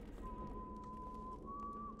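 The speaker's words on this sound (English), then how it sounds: "Who's whistling?" Someone whistles a long, thin, steady tone that holds and then shifts slightly higher near the end, heard from a guard's position in the game Dishonored over a low ambient murmur.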